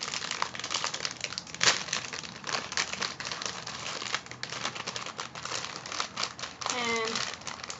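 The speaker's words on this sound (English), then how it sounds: "you have your package and you want to open it up" A Kracie Takoyaki kit package being opened, with dense, continuous crinkling and crackling of plastic wrapping handled close up, a few sharper tearing snaps, and a brief voice near the end.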